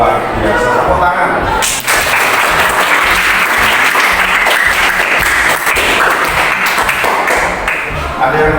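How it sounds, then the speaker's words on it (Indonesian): A classroom of students applauds loudly, with dense, continuous clapping that starts after a brief lull and keeps going for several seconds. "Tepuk tangan."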